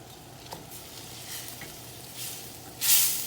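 Cream sauce with tarragon, reduced by about half, being stirred in a pan on the stove, giving a soft steady sizzle with faint scraping that swells into a louder hiss at the end, with no talk.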